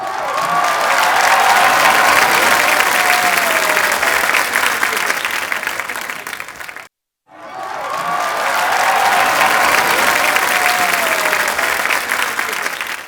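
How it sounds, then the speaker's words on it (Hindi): Studio audience at a comedy show bursts into loud, sustained applause with some cheering, broken by a brief cut of silence midway before the clapping resumes. "तो इनके लिए तालियां हो जाएं भरपूर"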